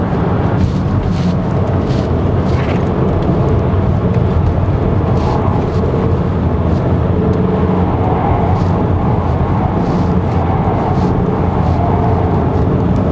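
A 2023 Volkswagen Tiguan Allspace 2.0 TSI engine roars loudly above 4000 rpm, a dense, sustained drone that holds steady with no talking.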